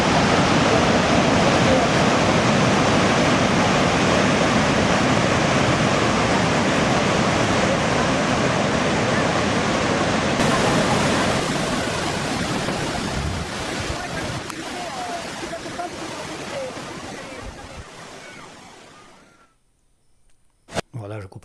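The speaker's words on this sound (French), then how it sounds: "je coupe le son parce que ce vacarme, c'est ce que l'on perçoit quand on est sur place" Heavy, dense roar of the Bang Yok waterfalls in Vietnam, loud and broadband for the first half, then easing off and fading to near silence toward the end.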